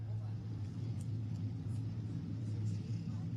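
Vintage modified race cars on the New Smyrna track get back underway after a restart, a dense low engine rumble droning steadily from a pack of cars with faint higher whines drifting above.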